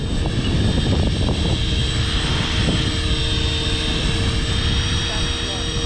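A 500XT radio-controlled helicopter flying in a strong 20 mph wind at about 68% throttle, a continuous loud rotor and motor drone with buffeting wind noise the whole time.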